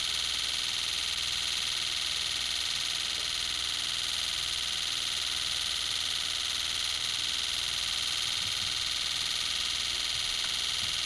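A simulated fuel injector pulse train for a car at 60 mph runs as a dense, continuous buzzing hum, the pulses packed too tightly to separate, steady throughout with no speech.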